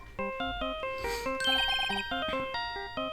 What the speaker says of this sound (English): Czyżby zaczął dzwonić właśnie ten telefon?